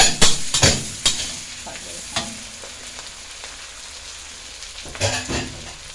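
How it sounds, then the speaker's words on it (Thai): Pickled mustard greens being stir-fried with onion in a pan for a fried tofu dish, giving a low steady sizzle broken by several sharp scraping stirs near the start and again near the end. "ถ้าหอมใหญ่เสร็จแล้วก็ใส่ผักกาดดองลงไปค่ะ"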